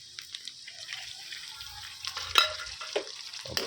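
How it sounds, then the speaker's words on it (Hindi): Tomatoes dropped onto softened onions and frying for a mutton liver masala, a close crackling sizzle with spatula stirs and scrapes, growing busier toward the end. "अब इसमें हम टमाटर शामिल करते हैं"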